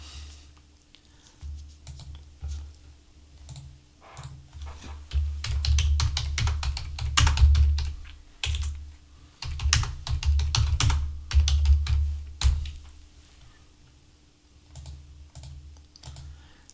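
Typing on a computer keyboard at close range, with bursts of rapid key clicks separated by short pauses and a faint steady hum underneath.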